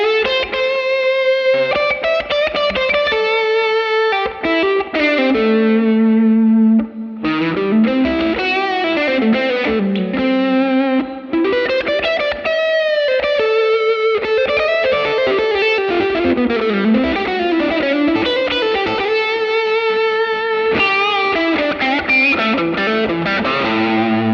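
A distorted electric guitar through a Line 6 Helix plays a sustained, singing lead line with bends and slides, loud and upfront, with no voices.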